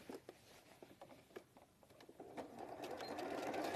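Sewing machine stitching a seam through 100% cotton fabric, a quick stop-start patter of needle strokes that builds into a steady, louder run near the end, close by with no talking.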